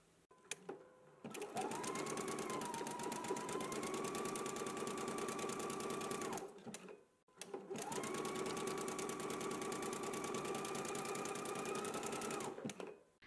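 A sewing machine runs a zigzag stitch along a garment hem in two long, steady bursts of close mechanical whirring, separated by a brief pause, with no talking.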